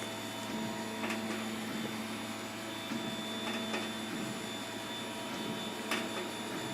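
A large 3D printer works through its first print after Z-height calibration, giving a faint steady motor hum with tonal whines and occasional soft clicks, no talking.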